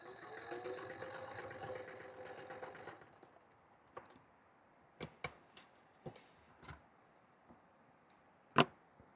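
Sewing machine stitching square seams on quilt pieces: a steady, close run of rapid mechanical stitching for about three seconds, then quiet handling with a few sharp clicks and taps.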